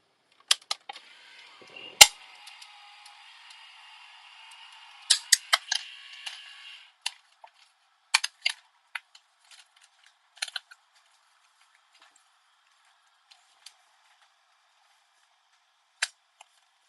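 A paper sheet is cut out for card making, a scattered series of sharp clicks and snips with a brief stretch of soft rustling early on, then sparse isolated ticks amid near silence.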